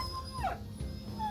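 In the video game Battle Brothers, a dog lets out a short, falling whimpering howl as it is killed, close and brief, with a steady tone and a low rumble behind it.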